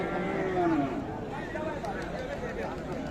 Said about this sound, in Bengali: মোটামুটি কিন্তু মাঝারি সাইজের ষাঁড় এগুলো